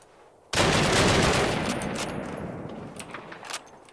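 A burst of gunfire erupts in a Call of Duty World War II match, a sudden loud volley of rifle shots that rings out and slowly decays, with further sharp shots cracking out over the next few seconds.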